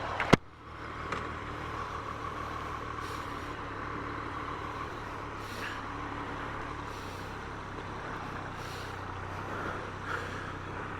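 A 2023 Triumph Street Triple 765RS motorcycle engine runs steadily after being shifted into gear, with a constant low idle hum after a sharp click at the start. The sound is moderately quiet and has no talking over it.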